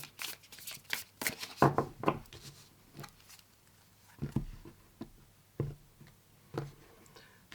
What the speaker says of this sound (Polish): tyle tego tasowania